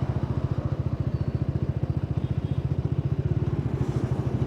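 Bajaj Dominar 400 motorcycle engine running with a steady, rapid low thumping pulse throughout, loud and close, while the clutch is eased during a gear shift.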